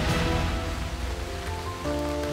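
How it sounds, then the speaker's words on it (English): Rain falling steadily on surfaces, a dense continuous patter heard alone over a short stretch. "look, I think it's about to start raining"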